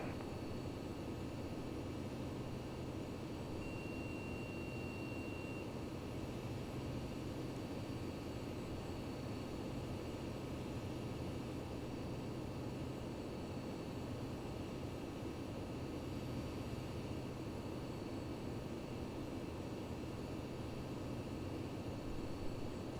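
A Falcon 50 jet in the Prepar3D flight simulator, cleared for takeoff on runway 30 right at Portland, gives a steady, even engine roar that holds unchanged throughout with no voices.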